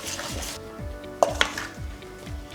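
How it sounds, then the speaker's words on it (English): A Danish dough whisk stirring sourdough in a bowl, with repeated soft scraping strokes and a couple of sharp clinks against the bowl, close and alone. "this is where that Danish whisk comes in again. We stir it, stir it, stir it, and just start working it"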